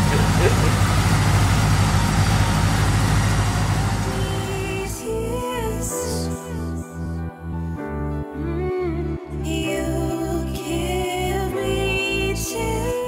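A Honda Prelude engine swapped into a Honda Civic Genio idles after throttle position sensor recalibration. It gives a steady, loud mechanical drone with a rhythmic pulsing, and voices can be heard faintly alongside it.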